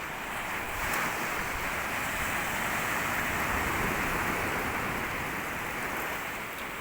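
Pacific Ocean surf rushes continuously onto a shallow beach, a broad steady wash of breaking waves with wind noise on the microphone and no talk.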